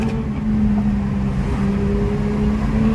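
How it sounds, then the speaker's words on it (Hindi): A modified Volkswagen Polo engine drones loudly and steadily, rising slightly in a sustained rev with a constant tonal hum, close by and with no talking over it. "भाई पोलो का साउंड सुने"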